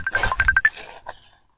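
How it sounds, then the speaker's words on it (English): A mobile phone ringtone for an incoming call, a short run of bright repeated electronic tones lasting under a second, then fading to near silence. "Wait, this phone is ringing me."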